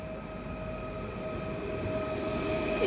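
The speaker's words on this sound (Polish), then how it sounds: "I podstawia się pociąg S, S100, S5 chyba do Żywca." An S5 regional train on the Katowice–Żywiec route pulls into Katowice station, a steady low rumble of rolling wheels with faint tonal hums, growing slightly louder as it nears, with no talk.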